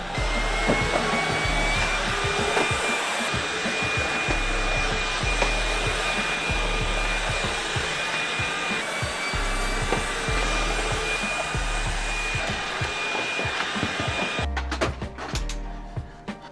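An early LG Code Zero cordless vacuum cleaner running indoors, a steady close whirring motor drone with bumps and scrapes as it moves, cutting off near the end.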